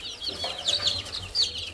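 Hen on a farm giving a few quick, close clucks in short bursts against a quiet background.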